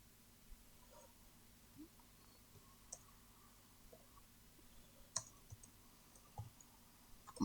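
Sparse, faint clicks of computer keyboard keys being pressed, including the enter key, scattered irregularly over a quiet room background.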